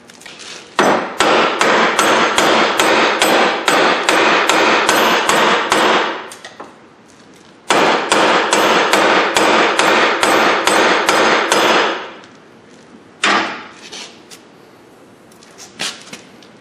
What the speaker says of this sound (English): I'm also going to beat this a little bit with a hammer.